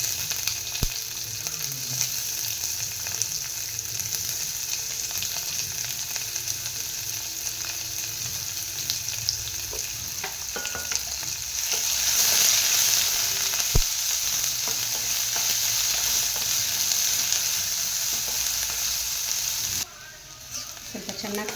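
Cumin, bay leaf and chopped onion fry in a hot pan for an egg curry, producing a continuous loud sizzle with occasional stirring clatter. The hiss swells brighter midway, then drops briefly near the end.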